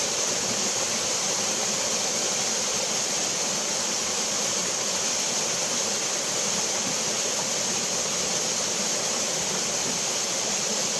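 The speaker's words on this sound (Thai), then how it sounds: "น้ำตกครับ" A waterfall deep in a Thai forest pours with a constant, dense roar of rushing water, loud and unbroken from start to end, with no voices.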